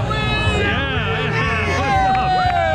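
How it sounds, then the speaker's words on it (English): A large motocross crowd at the Motocross of Nations fills the air with a steady, dense babble of many voices, with a loud tonal whine running beneath and a close voice speaking over it. "Look at this crowd."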